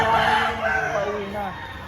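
A rooster crows loudly and close among the many chickens at the Padre Garcia auction market, a single drawn-out call with a falling tail that fills the short stretch alone.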